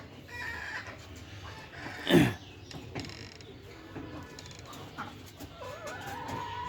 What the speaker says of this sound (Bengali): মুরগিগুলো খুবই সুন্দর এবং সুস্থ আছে